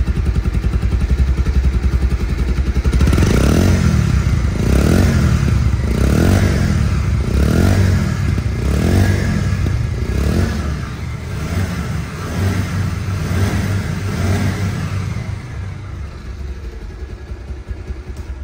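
A second-hand Bajaj Pulsar motorcycle engine running close by, revved repeatedly in a rhythmic series of rising and falling surges over a constant idle rumble, loud and without talk.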